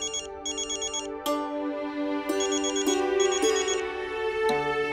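A telephone ringtone rings loudly and alone, a repeating electronic melody with bright chirping bursts, steady and close.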